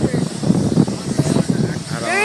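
An emergency helicopter comes in to land at night with a paramedic nearby, its steady rotor and engine drone running throughout beneath loud, excited talk from people close by.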